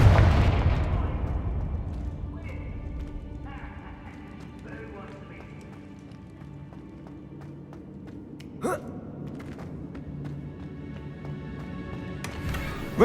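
A single Confringo blasting-spell explosion in the Hogwarts Legacy game bursts loudly right at the start and fades into a rumbling tail, followed by quieter game ambience and scattered small clatters.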